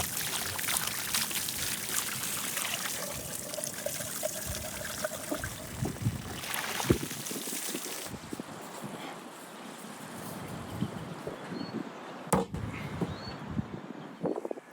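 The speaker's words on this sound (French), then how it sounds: "passons-la sous l'eau en veillant à bien la laver" Running water rinsing a whole ostrich skin outdoors, a steady close pour and splash with a few sharper handling knocks, later thinning out with wind noise.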